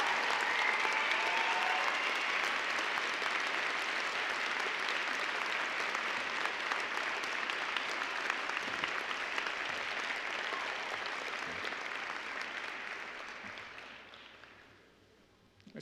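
An audience at a December university commencement applauds family members and supporters, sustained, broad clapping filling a large hall for over ten seconds before tapering off to quiet.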